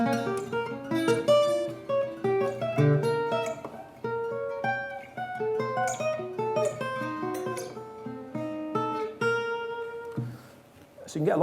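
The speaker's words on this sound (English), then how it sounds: "he'd move the same shape up and down the neck of the guitar." Guitar chords played in a steady stream, the same shape shifting up and down in pitch, with clear plucked notes ringing close and loud.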